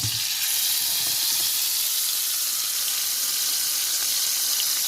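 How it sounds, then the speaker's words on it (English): Butter, steak and bacon sizzle hard in a very hot pan, a loud, dense, steady hiss of frying fat crackling continuously without pause. "Now the butter, steak and bacon are almost equal in majesty of sound."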